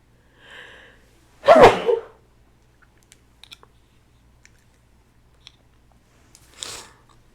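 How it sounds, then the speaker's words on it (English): A single loud sneeze rings out near the mic after a soft intake, followed by a few faint clicks and a quieter breathy sound. "I feel like sneezing"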